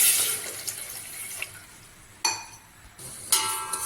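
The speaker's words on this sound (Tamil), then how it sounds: "சர்க்கரை முழுகிற அளவுக்கு தண்ணி ஊற்றி சேர்த்துக்கலாம்." Water splashes and trickles in short bursts, close by, with a few stops and restarts, poured into a pot over sugar, no voices heard.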